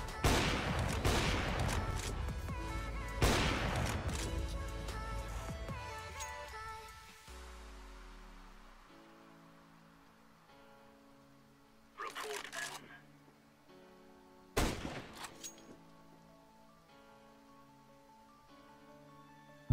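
Rapid gunfire in CS:GO on the Mirage map, wallbang shots fired from CT spawn toward kitchen: a dense burst of shots at first, then quieter pauses broken by two short, sharp volleys.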